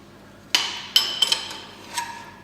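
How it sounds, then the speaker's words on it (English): A 17mm spanner works the nuts on an I-Chair X3000RS, giving a few sharp metallic clinks and taps, close and distinct, spaced irregularly over a quiet background. "you need to take your 17mm spanner, 17mm spanner,"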